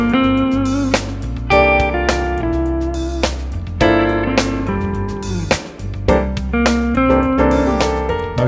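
A smooth jazz guitar plays an answer motif with clear, sustained plucked notes in a syncopated rhythm, close and fairly loud, ringing alone without voices.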